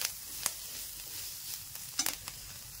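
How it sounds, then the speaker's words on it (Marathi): Curry leaves and spices frying in a pan for Khandeshi-style brinjal bharit, a soft continuous sizzle with a few sharp crackles and pops, close by and alone. "कढीपत्ता टाकून देऊ. सर्व चांगलं थोडंसं फ्राय करून घेऊ आपण."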